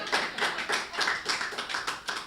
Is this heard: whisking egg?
no